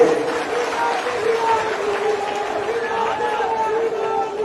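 A large outdoor political rally crowd applauds to welcome a popular leader, a loud continuous roar of clapping and crowd noise with an amplified voice running over it.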